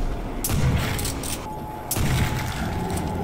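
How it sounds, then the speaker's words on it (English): Trench gun blasts in the zombies mode of Call of Duty: World at War, two heavy shotgun booms about a second and a half apart, loud and close over a low game ambience. "I gotta hit him just right with the trench gun"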